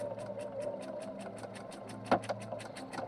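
A sewing machine stitches bias tape onto a quilt, running at a steady close whir with a fast regular needle tapping, alone and with no voices.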